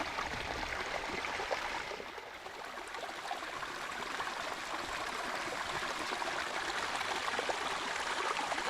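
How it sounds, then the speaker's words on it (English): Natural spring water flowing steadily outdoors at a nature preserve, a soft, continuous trickling and burbling stream heard alone at low volume. "It's spring water, man, if you want to get some."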